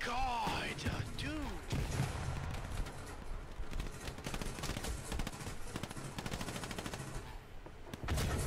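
Sustained machine gun fire from a strafing run in a WWII video game, a dense, loud rattling burst running almost continuously with explosive crashes mixed in, under a busy battlefield din.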